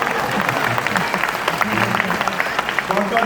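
Audience applause at an event in Hindi-Urdu, a steady crowd clapping throughout with talking and murmur mixed in underneath.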